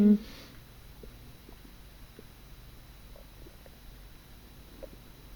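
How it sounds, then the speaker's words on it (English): A faint, low stomach rumble in a quiet room inside an old sanatorium, a soft gurgle that follows a brief louder knock at the start, then near silence. "That was my stomach."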